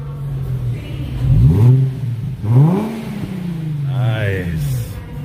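An Infiniti G35 engine revs in a couple of rising, falling bursts with a stock exhaust, close by, as a person talks over it.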